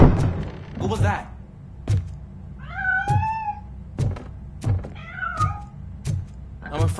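A cat in the video game Robocop: Rogue City gives two short, clear meows amid heavy, regular thudding footsteps and scattered knocks.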